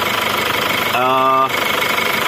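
A Chevrolet Captiva engine runs at idle during a cooling system flush, a steady close mechanical hum with a brief tonal whine in the middle, under continuous talk.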